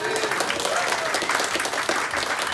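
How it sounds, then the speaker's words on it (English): A crowd at a Tuesday night blues music club claps for the sound engineer in a small live venue, a thick burst of close applause with a few voices calling out over it. "I think he deserves a huge round of applause."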